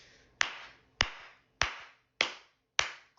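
Five slow, deliberate hand claps spaced evenly about half a second apart, each sharp and crisp with a short ringing decay, close and alone in a quiet room, sarcastic in pace.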